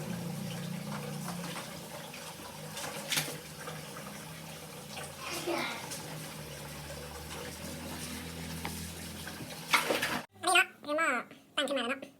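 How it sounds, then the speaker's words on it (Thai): Raw shrimp are rinsed under running water, a steady splashing and trickling flow close by with a few louder splashes, before the water stops and people talk briefly. "ล้างกุ้งให้สะอาดด้วยน้อง"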